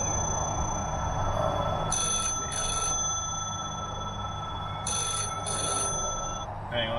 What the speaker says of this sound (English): hang on, there's someone calling me.